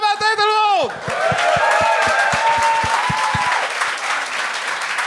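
A comedy show audience breaks into sustained, dense applause with scattered cheers after a voice rises in a drawn-out shout, with steady rhythmic thumps running beneath the clapping.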